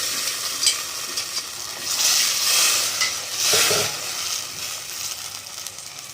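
Cashews frying together with boiled vegetable pieces in a pan for bisi bele bath, a steady close sizzle that swells twice as the food is stirred, with no talking.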